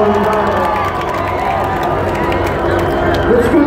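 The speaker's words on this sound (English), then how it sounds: "let's hear a big round of applause for security tonight" A crowd at a live metalcore concert roars continuously, a loud, dense wall of cheering and shouting voices that holds steady throughout and swells slightly at the end.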